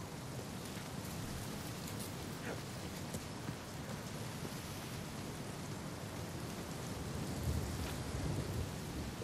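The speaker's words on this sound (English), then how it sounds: "storm coming." Thunderstorm with steady heavy rain in Uncharted 4, a constant hiss of rainfall with low rolling thunder swelling near the end.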